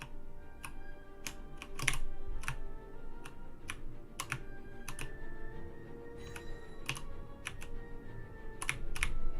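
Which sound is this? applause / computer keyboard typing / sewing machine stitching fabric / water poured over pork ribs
computer keyboard typing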